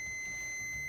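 Steady, continuous high-pitched beep from a multimeter in diode test mode, reading a dead short across a destroyed hairdryer diode; close and fairly quiet, with no voices.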